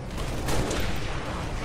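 Video-game gunfire forms a dense, continuous crackling rattle, moderately loud and steady throughout with no distinct single shots and no talk.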